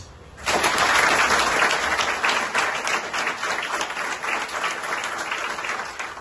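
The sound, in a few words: audience applause for General Dogo Blé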